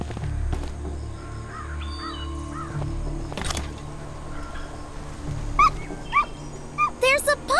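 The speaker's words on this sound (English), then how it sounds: "There's a puppy! Come here, little puppy." A puppy whimpers and whines in a zombie survival mobile game, in high, wavering bursts over a steady background drone, growing more insistent toward the end.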